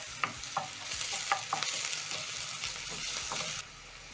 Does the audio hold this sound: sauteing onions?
yes